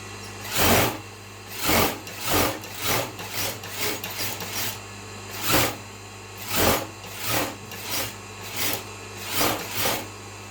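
A sewing machine stitches the shoulder seam of a blouse in about a dozen short, close bursts of whirring needle action, separated by brief pauses.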